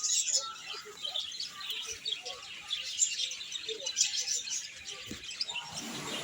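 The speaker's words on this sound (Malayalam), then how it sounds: "കിളികളുടെ കളകളാരാവും കേൾക്കണുണ്ടോ?" Birds chirp and twitter around a nest beside a house, a busy, continuous chorus of close high calls with no one talking.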